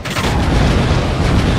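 Enemy missile fire in the aerial combat game Sky Gamblers Afterburner, a loud, sustained rushing boom with rumbling, crackling texture over a short burst.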